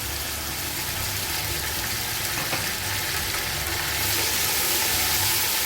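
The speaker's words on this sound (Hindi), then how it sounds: "ये तीनों चीज़ें मिलके फ्राई होकर बहुत अच्छा टेस्ट देगी हमारे चावलों में" Garlic, ginger and green chilies frying in hot oil for chana pulao, a constant broad sizzling hiss that grows a little louder toward the end, with no voices.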